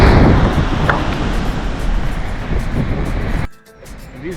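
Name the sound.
intense ocean waves at a beach in Madeira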